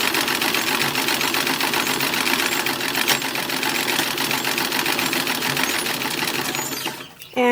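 A sewing machine runs steadily and close by, stitching the side seams of a 1920s-style kimono-sleeved summer dress, whirring continuously for several seconds before stopping abruptly near the end.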